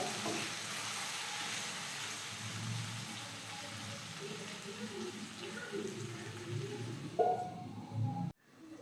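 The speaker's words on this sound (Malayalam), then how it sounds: "ഇനി നമുക്ക് മൂടി വെച്ചിട്ട് നന്നായിട്ട് ഇതൊന്ന് വേവിച്ചെടുക്കാം. ലോ ഫ്ലെയിമിൽ തന്നെ ആയിരിക്കണം" Chicken leg pieces for a pepper roast sizzle and fry under a lid on a low flame, a soft continuous crackle held at an even level before a brief clatter and sudden drop at the end.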